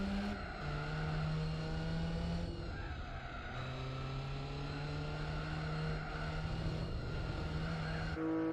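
A race car in Gran Turismo 4 during a long endurance race through Europe, its engine droning loudly and steadily with rising pitch sweeps through the gears and brief drops at shifts, no talk.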